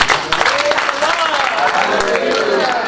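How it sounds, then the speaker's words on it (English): A church congregation claps continuously for about three seconds, dense and fairly close, with voices mixed into the clapping. "Clapping and smiling."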